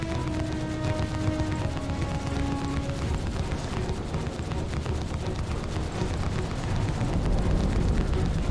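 Guns on a Hammerhead spaceship in Star Citizen fire continuously in a dense, rapid barrage, loud and steady throughout, layered over a constant roaring engine wash.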